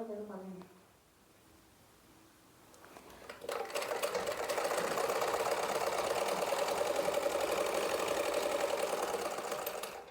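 A sewing machine stitching a kitchen apron runs in a steady, rapid mechanical whir that starts after a quiet lead-in and holds loud and even for several seconds, with a voice speaking faintly at the start.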